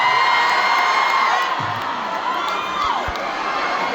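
A concert crowd at a world tour show in Vancouver cheering loudly, with high screams and whoops from many voices in a dense roar that eases slightly midway and then holds.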